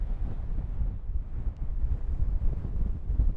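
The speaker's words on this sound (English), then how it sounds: "that wind is fairly brutal" Strong wind buffets the microphone outdoors in the Lake District, a steady, loud, low roar of gusting air that fills the whole stretch without pause.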